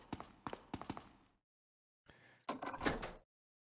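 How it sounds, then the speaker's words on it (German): In the video game Resident Evil HD, a door is unlocked with the sword key: a quick series of mechanical clacks, a pause, then a creaking, grinding swing of the heavy door, close and alone. "Und mit dem machen wir jetzt mal die Tür auf."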